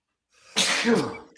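A single sharp sneeze after a short inhale, close and sudden, with nothing else around it.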